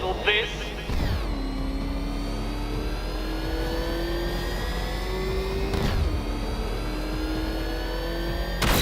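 The Batmobile's engine revs in Batman: Arkham Knight, a steady, loud motor drone with slowly rising pitch sweeps and a couple of sharp surges, while a voice talks over it.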